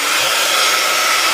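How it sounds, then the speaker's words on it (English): A craft heat tool blows hot air to melt clear embossing powder, producing a loud, continuous hairdryer-like rushing hiss that stays even throughout, with no voices. "So I'm just bringing my heat tool in"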